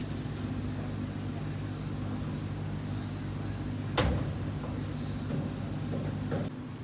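The door of a 1948 Chevy convertible is shut once with a single solid thud midway, heard over a steady low hum from the surroundings.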